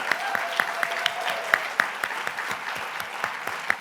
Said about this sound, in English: but give them a big round of applause.